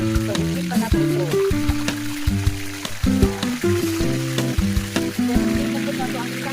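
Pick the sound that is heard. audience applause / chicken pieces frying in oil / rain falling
chicken pieces frying in oil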